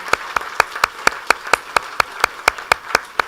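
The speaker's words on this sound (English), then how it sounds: "Big round of applause." Applause at a county board meeting honouring state court interns, heard as loud, crisp claps in an even, rhythmic beat, about four per second, with no talking over them.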